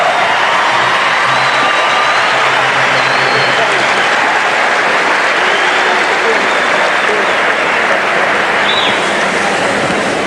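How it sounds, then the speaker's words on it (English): A large arena crowd at the 1981 NBA All-Star Game applauds and cheers the Western Conference team, a loud, continuous roar of clapping and cheering that fills the whole stretch with an announcer's voice faintly underneath. "Let's have a round of applause for the Western Conference All-Stars."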